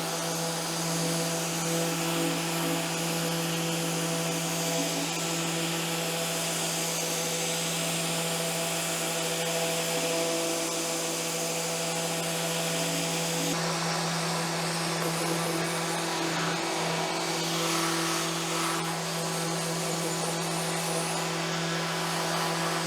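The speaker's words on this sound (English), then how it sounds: "So I gotta get this whole thing sanded up now" A power sander works over a carved Irish oak dough bowl with a continuous high whirring drone and a constant motor tone. It is loud and close, with a slight change in pitch partway through.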